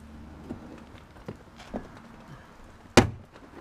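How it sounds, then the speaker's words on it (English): Plastic trim clips on a 2015 Subaru Forester door panel give one sharp, loud snap as a pry tool works the panel loose, after a few soft taps and knocks. "Door panel tool, pry from the bottom again."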